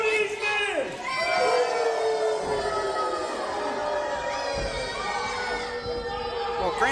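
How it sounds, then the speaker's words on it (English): A wrestling crowd at a live show jeers and boos the wrestlers, a dense, sustained mass of many voices with rising and falling whoops throughout, loud and filling the arena. "they're not booing you, they're booing your skills"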